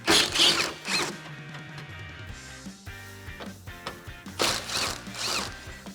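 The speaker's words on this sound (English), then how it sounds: "Grab your 10mm socket and get these removed." A 10mm socket ratchet clicks on headlight bolts of a 2014-2015 Chevrolet Silverado 1500, with bursts of quick close ratcheting separated by quieter handling noise.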